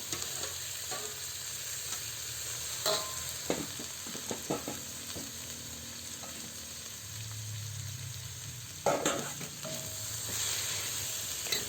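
Sliced carrots and cabbage fry in a pan for pancit canton, giving a steady close sizzle with intermittent scraping and clinking from stirring.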